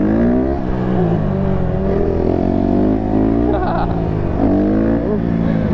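A Yamaha R6 sport bike ridden close by, its engine a loud, continuous drone whose pitch swells and dips as it revs, with faint voices mixed in.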